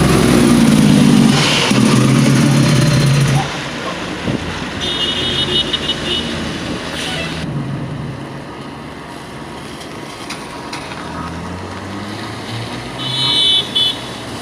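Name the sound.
bus stopping in the middle of the road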